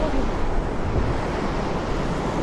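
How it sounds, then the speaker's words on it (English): A natural waterfall along a trail at Whistler Bike Park rushes steadily, a loud, broad, continuous roar of falling water with some wind buffeting, close to the microphone. "There's this natural waterfall you get to ride over."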